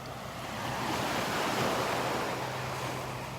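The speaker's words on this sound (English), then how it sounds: "the clear water, the sounds of the waves" Surf rolls onto a Gulf beach at Delnor-Wiggins, one broad swelling wash that builds and recedes over a few seconds, with some wind noise on the microphone and no talking.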